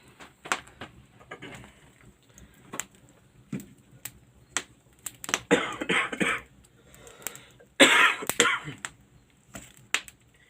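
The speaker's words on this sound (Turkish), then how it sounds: "Üşümeye başladık herhalde. Öksürmeye de başladık." Several scattered coughs and throat-clearing sounds, close by, outdoors beside a barbecue fire at a highland plateau, with sharp bursts spread across the clip and quiet gaps between them.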